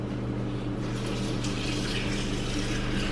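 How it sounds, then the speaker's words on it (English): Tap water pouring at a kitchen sink into a pot, a dense steady rushing gush with a faint low hum underneath, constant and close throughout. "I'm gonna put some water in the pot."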